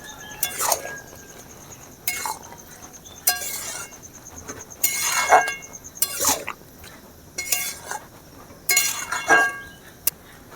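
Soybean do pyaza with chopped coriander leaves is stirred in a pan, sounding as separate close metallic scrapes and clinks of a spoon against the pan in uneven bursts, with quiet pauses between them.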